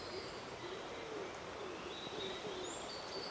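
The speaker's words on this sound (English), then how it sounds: "I can hear a wood pigeon just getting going." Wood pigeon cooing at dawn in woodland, soft repeated low coos at a distance, blended into a busy dawn chorus with higher bird calls and a steady ambient hiss.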